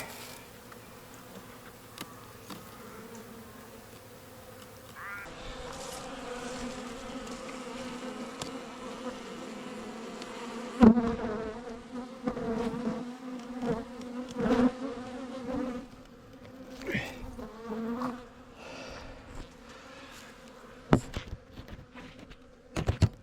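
Honeybees swarm through a hive where comb hangs beneath the top frames, a dense buzzing hum running throughout with louder surges and brief handling knocks partway through.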